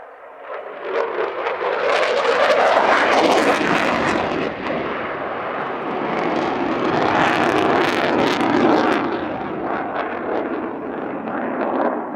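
A jet aircraft flies a display at Cosford Airshow, a loud roaring pass that swells, eases, then builds again with crackling engine noise, sustained and fairly close, no voices heard.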